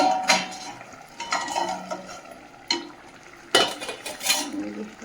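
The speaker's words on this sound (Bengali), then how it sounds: "ঢাকনাটা খুলে দেখে নেব।" A cooking pot lid is lifted off with a few metallic clanks and scrapes, close and fairly loud, a soft simmer underneath and no one talking.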